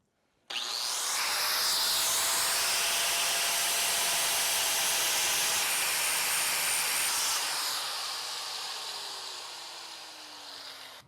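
A pneumatic impact wrench bolting a solar rack runs in one continuous high-pitched, airy burst lasting several seconds, close and loud, then tapers off.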